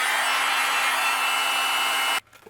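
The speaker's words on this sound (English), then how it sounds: "I'll take my panel and I'll melt it with my heat gun" Heat gun melting white embossing powder on a card panel: a loud, even blowing whir held steady for about two seconds, then cut off abruptly, leaving near silence.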